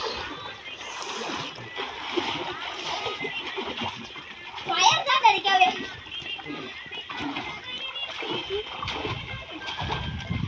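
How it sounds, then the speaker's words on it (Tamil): A child swimming, kicking the legs and paddling the arms, makes water splash close by. A louder burst of splashing comes in the middle, and voices talk over the splashes all the way through. "கால ஆட்டி கை நீச்சல் தான் நல்ல நீச்சல் தெரியுது."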